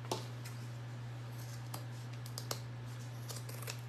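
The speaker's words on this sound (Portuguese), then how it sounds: "vou cortar todos esses excessos aqui agora" Scissors snipping off excess fabric while making a zippered necessaire box bag, a few sharp, light cuts spaced irregularly over a steady background hum, fairly close and quiet.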